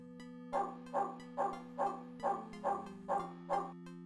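A dog in the video game Call of Cthulhu: Shadow of the Comet barks in a steady, evenly spaced series of eight loud identical barks, looping over a constant low musical drone.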